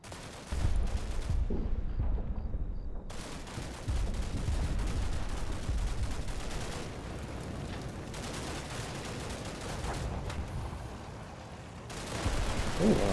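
Gunfire from the tank and infantry wargame Combat Mission Red Thunder: dense, sustained crackling volleys of small-arms and machine-gun fire with heavy low rumble, continuing steadily throughout with brief lulls and a rise at the end.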